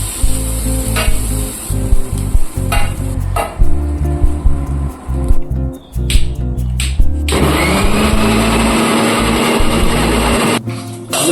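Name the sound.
mixer grinder blending egg curry masala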